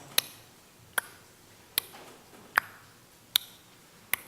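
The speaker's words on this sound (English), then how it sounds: "there aren't many clocks that tick anymore, but I have one." A clock ticks six times at a steady, even pace, each sharp click standing alone against a quiet indoor background.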